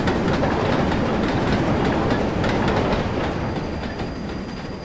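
A simulated train in Train Simulator 2016 rolls along with steady loud wheel rumble and rail clatter, easing off and growing slightly quieter as it slows, a faint high squeal running through.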